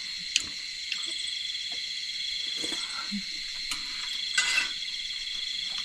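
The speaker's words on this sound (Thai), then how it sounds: "เสียงกบเสียงเขียด" Frogs croak at night against a steady high chorus of insects, with scattered faint calls and soft patters, distant and continuous with no talk.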